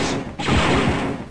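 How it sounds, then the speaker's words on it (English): Burst of gunfire from Imperial troops shooting through walls in the game Dark Forces: a loud, dense volley starting sharply and rattling on near and continuous for about a second. "Shooting through walls."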